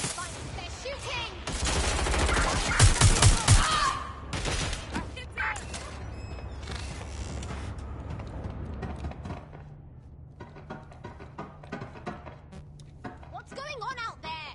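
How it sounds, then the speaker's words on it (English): Bursts of gunfire crackle through a video game scene, loudest early on with rapid overlapping shots, then thinning into scattered pops, with voices talking over much of it and metallic clatter near the end. "They're shooting."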